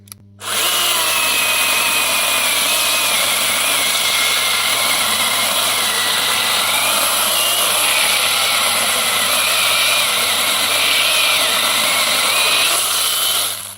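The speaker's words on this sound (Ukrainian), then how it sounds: "спробуємо трошечки навантажити пилу. Подивимося, як вона буде різати." A Bosch CSM 1815 18 V cordless mini chainsaw whines at a steady high pitch for over ten seconds, loud and close, its motor straining slightly as it cuts.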